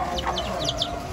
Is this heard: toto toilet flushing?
no